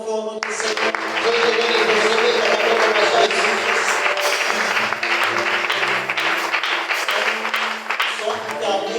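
A church congregation claps and cheers together during a worship service, a broad sustained wash of applause that stays loud for several seconds, with a voice over it.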